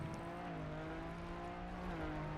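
An old car with a manual gearbox in the Trackmania racing game, its engine holding a steady droning hum with slight pitch shifts, close and continuous throughout.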